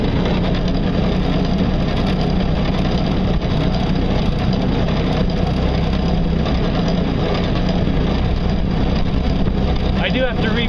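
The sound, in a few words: electric motor of an ultralight solar speedboat running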